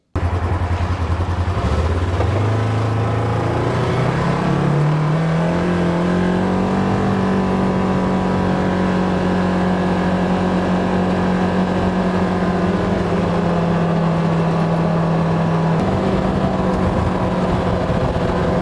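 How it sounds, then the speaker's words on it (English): A Polaris RZR Trail S 1000 side-by-side sits idling close by, then revs up and holds a loud, steady engine drone for most of the stretch before dropping back slightly near the end. "one of the best purchases I ever made was this thing, this RZR Trail S 1000 that I have here."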